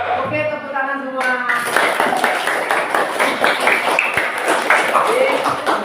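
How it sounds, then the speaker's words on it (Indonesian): A class of schoolchildren claps hands together in a steady patter of applause, moderately loud and close, starting just after a brief adult voice and continuing to the end. "tepuk tangan semua."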